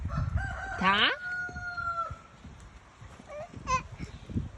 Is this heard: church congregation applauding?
no